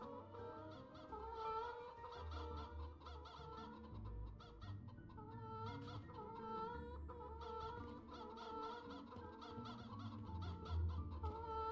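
Chickens cluck repeatedly in the video game Poppet Quest, with steady overlapping clucks and low background sounds from the game running throughout.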